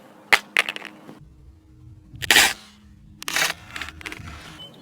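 A Samsung Galaxy S6 Edge smacks face down onto its rear glass: a sharp crack near the start, then two louder clattering impacts and bounces, each fading into quiet room noise.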